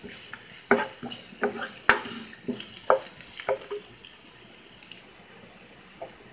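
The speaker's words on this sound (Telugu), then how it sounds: "దీన్ని చిన్న చిన్న పీసెస్గా కట్ చేసుకొని క్యారెట్ని కూడా లైట్గా ఫ్రై చేసుకుందాం." Small carrot pieces frying lightly in a pan for chicken soup, with a soft steady sizzle broken by sharp spatula scrapes and clacks against the pan at irregular intervals, close and fairly quiet.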